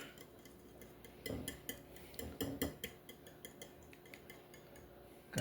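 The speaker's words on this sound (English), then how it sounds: "Now we're going to mix this all up." Apple fritter batter stirred in a slightly too-small bowl, utensil clicking and scraping against the sides in quick irregular bursts, close and fairly quiet, with no talking.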